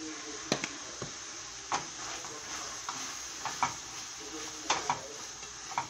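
Homemade chili seasoned with chili powder simmers and sizzles in a pot while a spoon stirs and scrapes, giving scattered close clinks and knocks over a steady soft cooking hiss.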